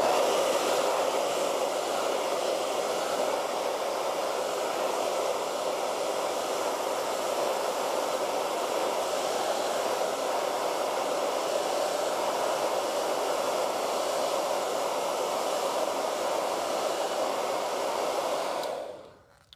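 A hair dryer blows steadily and loudly for about nineteen seconds while drying wet acrylic paint, then cuts off abruptly at the end. No one speaks over it.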